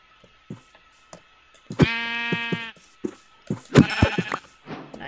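Sheep in the Minecraft video game bleat in two loud, buzzy calls, one near the middle and another toward the end, with soft game clicks and footsteps between them.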